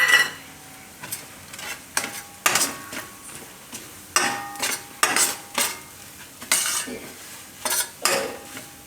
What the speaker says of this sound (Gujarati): તો તેલ ગરમા ગરમ હશે ને લોટ એકદમ સરસ શેકાઈ જાય